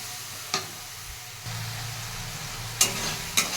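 Spice paste is sautéed in a pan, giving a low, steady sizzle with a few sharp scrapes from a stirring utensil.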